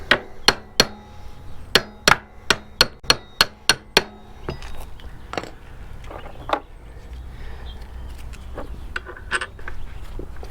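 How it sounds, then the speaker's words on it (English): Steel hammer tapping an axle through a motorcycle wheel hub: about a dozen sharp, evenly spaced metallic strikes, close and loud, followed by softer scattered knocks and clinks. "Give it a couple taps, go all the way through."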